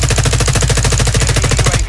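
Rapid automatic gunfire in Call of Duty: Warzone, a loud, close, continuous stream of evenly spaced shots lasting a couple of seconds.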